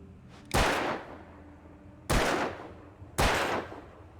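Three loud, sharp shotgun blasts ring out in the Alan Wake video game, spaced unevenly with short decaying tails and no talk between them.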